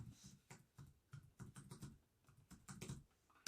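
Quick, uneven run of soft key clicks as a password is typed on a Lenovo Chromebook C330 keyboard, close and quiet, with a slightly louder keystroke at the end and no talking.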